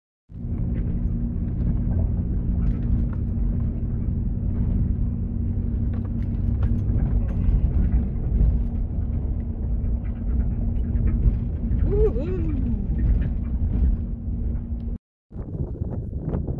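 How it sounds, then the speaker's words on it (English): A Chevy Cruze drives slowly up a gravel road at an Alberta ghost town, giving a continuous low engine rumble with tire crunch and wind buffeting the microphone. "I see a little spinning of the wheels right now in the gravel, but he's gonna make it"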